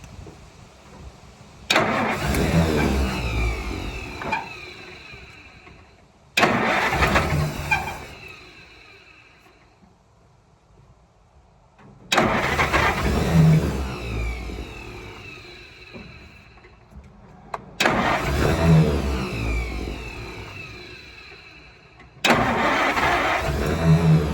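A 1947 International KB-7 truck engine that had sat for over 50 years cranks and catches in five separate loud bursts, each one surging and then fading away, with quiet gaps between the attempts.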